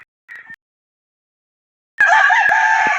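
Backyard rooster belonging to an uncle, with a short call near the start, then a loud, sustained crow close by after a pause of silence.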